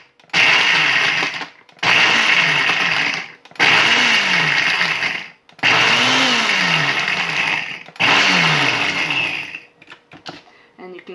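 A blender grinds pork rinds in five loud, close bursts of a few seconds each, its motor pitch rising as each run settles, with short silences between them.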